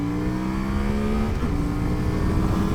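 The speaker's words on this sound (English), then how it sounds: "So let's do an acceleration test." A motorcycle in a 0 to 60 acceleration run, a KLE500, Ibex 450 or 390 Adventure R, revs hard under load, its engine pitch climbing, dipping at a gear change, then climbing again, close and steady.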